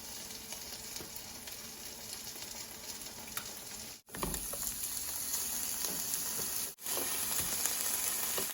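Bell peppers being stir-fried in a pan with tamarind sauce make a steady crackling sizzle with stirring scrapes, broken by two brief silent gaps, with no voices.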